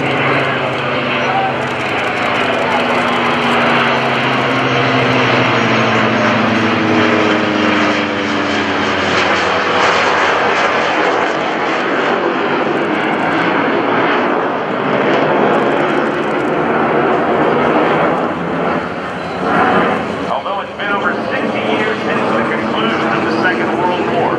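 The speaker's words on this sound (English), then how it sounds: "let you listen to the sound of the radial engine on the Helldiver and the 2 turbofan jet engines on the Hornet" A loud, continuous aircraft engine roar from a vintage Helldiver's radial engine and a Hornet's twin turbofan jets, a sustained droning close-up rumble that holds steady throughout.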